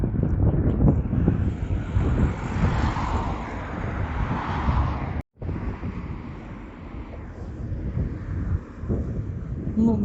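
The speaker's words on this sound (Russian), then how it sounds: "Ветер такой, послушайте." Strong, gusty wind on a cold seashore buffets the microphone in loud, roaring bursts, with a short dropout midway and a faint wash of surf beneath.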